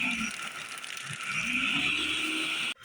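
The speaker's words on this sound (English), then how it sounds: "We're going to put our blender on and we're going to blend all ingredients." Blender running on iced coffee frappuccino ingredients, a steady loud motor whir with grinding, churning texture from the ice, holding constant before cutting off abruptly near the end.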